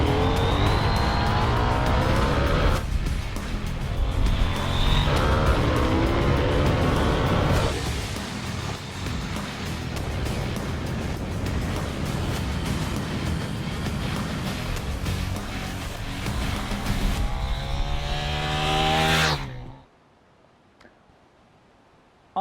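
KTM 890 Duke R motorcycle accelerating hard on a mountain pass, a loud, close engine climbing through gears in repeated rising sweeps, then cutting off abruptly into near silence.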